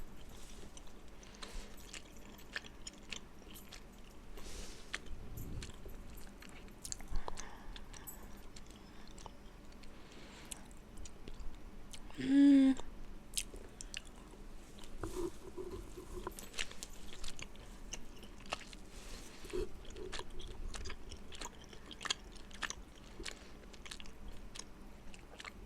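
Canadian candy being chewed close up produces soft, wet mastication and occasional crunchy bites, faint and steady in a quiet room, with no speech.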